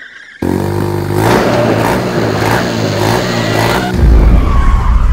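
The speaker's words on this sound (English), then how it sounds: "Motorcycles in Russia, in Siberia." Motorcycle engine running in Siberia, a steady loud harmonic drone with throttle pulses rising and falling, then a sharper deeper burst of revving near the end, no voices.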